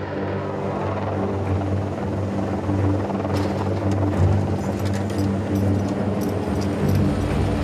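A Swiss Helicopter helicopter flies back and forth hauling tar loads, its steady loud rotor and engine drone continuous and close throughout, with a slight swell partway through.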